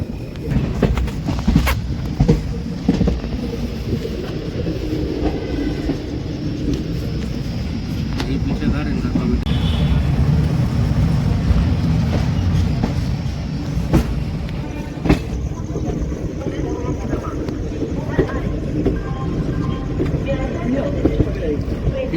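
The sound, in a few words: Gomti Sagar Express 16094 train arriving at junction station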